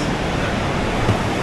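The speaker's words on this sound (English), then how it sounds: "Waterfall on the view." Waterfall at Furong Ancient Town, a 2000-year-old town built on a waterfall, roars as a steady broadband rush of falling water, constant and fairly loud with no breaks.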